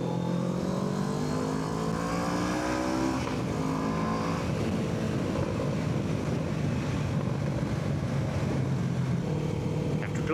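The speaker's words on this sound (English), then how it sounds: "Got the scooter gang in front of me again." Several scooters ride together through cold night streets in Tagaytay at 2 AM. Their engines drone and shift in pitch under a steady rush of wind on the microphone, continuous and fairly close.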